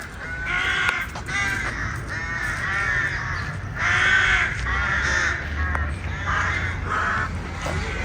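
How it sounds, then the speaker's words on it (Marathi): Many crows caw over a parking area beside a park in Luxembourg, loud overlapping harsh calls repeating in bursts throughout, close and busy, with no talking. "हे बघा इथे कावळेच कावळे"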